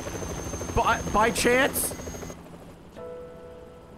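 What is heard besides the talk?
helicopter in the video game Yakuza 3 Remastered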